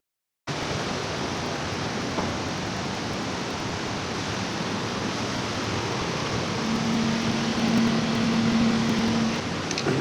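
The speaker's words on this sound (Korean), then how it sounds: "다음은 아주 예쁜 따꾸폭포입니다." A waterfall near Pakse, Laos gives a steady, loud, broadband roar that starts abruptly and continues unbroken, with a faint steady hum joining near the end.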